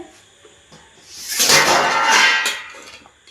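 A lid comes off a cooking pan of steamed eggs with a soft metallic clatter and a brief hiss of steam swelling in the middle, near and moderately loud.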